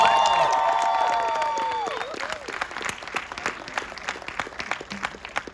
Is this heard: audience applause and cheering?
yes